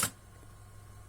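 An Akai 1721L reel-to-reel tape recorder's switch clicks once into play, a single sharp snap followed by a faint low mechanical hum.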